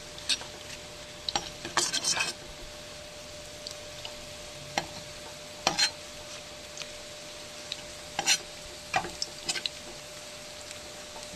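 Onion fritters (piyaji) frying on a low gas flame in a pan, with a quiet steady sizzle under scattered clinks and scrapes as the fritters are turned one by one.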